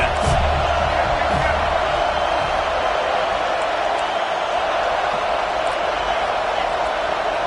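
A football stadium crowd at a game against FSU roars steadily on a big third down, a loud, dense wall of cheering that holds at full strength throughout with no pause.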